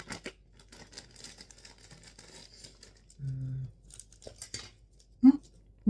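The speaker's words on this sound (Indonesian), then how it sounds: "Kita gunting dulu." Scissors snip open a bag of Japota Nipis Pedas potato chips with a short cutting sound, among plastic crinkling and brief speech, then a couple of sharp clicks.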